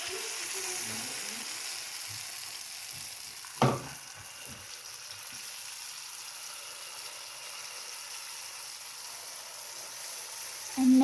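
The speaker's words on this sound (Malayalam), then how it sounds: "ഇനി നമുക്ക് ഇതിലേക്ക് നമ്മുടെ മാവ് ഒഴിച്ചെടുക്കാം. ഇതേപോലെ ഓരോന്നിൽ ഒഴിച്ചെടുക്കാം." Unniappam batter hits hot oil in a pan, giving a steady hiss of frying throughout, with a brief clatter near the middle and a short knock at the end.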